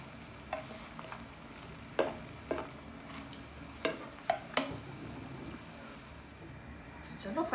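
Wheat flour papdi frying in hot oil, with a steady bubbling sizzle broken by scattered sharp pops and utensil clicks, fairly quiet and close, with a voice speaking now and then.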